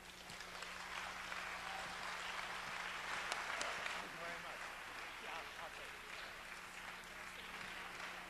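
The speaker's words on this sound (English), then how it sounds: "let's have a hand of applause for Angela." Audience applause after a lecture on slavery and the prison industrial complex, a steady wash of clapping from a hall crowd lasting throughout, moderately loud and even.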